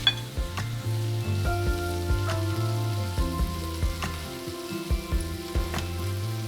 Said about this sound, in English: My cast iron skillet is not large enough for both steaks at one time, so I'm just making Allie's steak really fast